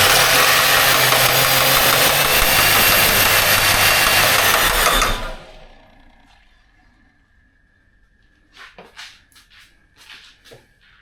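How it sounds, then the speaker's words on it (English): A rebuilt budget V6, an L67 with a top swap, roars loudly at high revs for about five seconds before cutting off abruptly, followed by quiet ticking and a few short clanks. "The knocking and the high revs."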